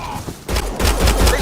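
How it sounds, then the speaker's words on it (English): Gunfire in the Mass Effect Andromeda video game, a run of rapid shots in a firefight that begins after a quiet moment and stays dense and loud to the end, with no speech over it. "They shot him."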